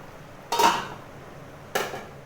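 A lid set down on a cooking pot of fish curry with amberella, two short metallic clanks about a second apart, close and fairly loud, with no talk.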